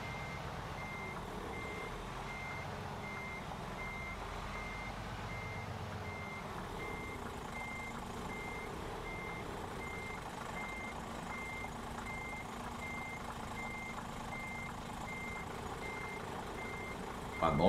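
A Thunder truck reverses into a parking spot at a fuel station, its reversing alarm beeping in a regular, evenly spaced rhythm over a low, steady engine idle.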